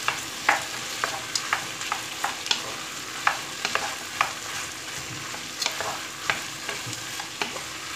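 Thawed, washed peas sizzle in a hot pan with a constant hiss while a utensil stirs and scrapes them in quick, uneven clicks, close and with no voices.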